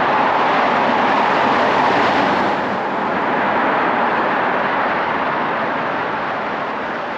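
A loud, steady roar of a car engine reverberating in a road tunnel in Norway, a broad droning rumble that swells slightly and then holds, with no talking.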